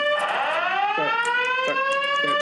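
A fire alarm sounds in a poker room, a loud, continuous tone whose pitch rises steadily, with a repeating pulsed beep pattern cutting through it at regular intervals and no voices.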